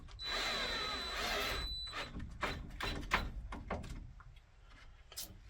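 A power drill fitted with a star bit drives a concrete screw: a short whirring burst, then a run of uneven clicks and knocks as it bites, close and with no one talking.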